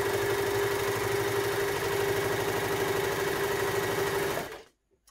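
A Babylock Victory sewing machine stitches steadily at a short stitch length, its rapid even mechanical whir running loud and close, then stopping abruptly near the end.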